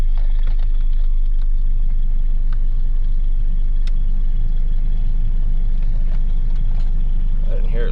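A Ford Ranger pickup's engine running while driving, a loud, steady low rumble with road noise throughout, close up from inside the cab.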